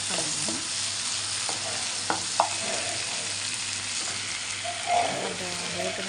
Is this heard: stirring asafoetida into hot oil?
yes